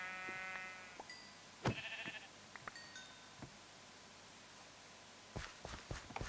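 Sheep in a video game let out a few brief bleats, mixed with sharp tapping hits and clicks, against a quiet hissing background.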